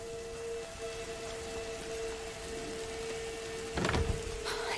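Steady rain falls in the video game A Plague Tale: Innocence, a constant wash of droplets with a faint tonal hum beneath and a brief louder rumble or splash near the end, no speech.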